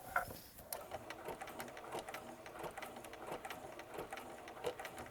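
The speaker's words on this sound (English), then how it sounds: "The machine is pre-programmed. It's going to do that top bar and then start stitching down the side where it had that straight" A pre-programmed domestic sewing machine stitching a buttonhole, sewing the top bar and then running down the edge over a straight stitch, gives a steady, fast mechanical whir of needle strokes, fairly quiet and close, with no talk.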